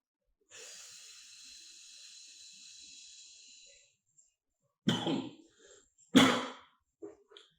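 A long breathy hiss, then a few harsh, forceful coughs with short pauses, close and fairly loud.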